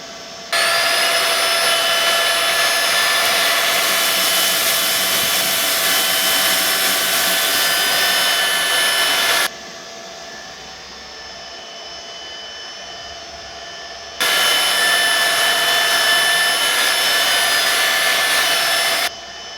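Dibea D008 Pro cordless vacuum running loud and steady on normal power over a big pile of dirt on the floor, its whine dropping to a softer idle midway before surging back up for the rest of the pass.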